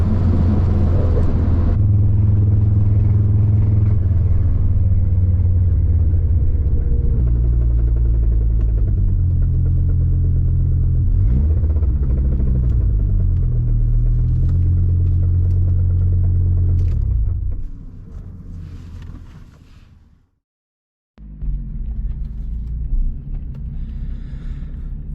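A race car engine drones loud and close with shifting tones as it drives, then the revs drop away as it brakes, a brief near-silence follows, and the engine picks up again afterward.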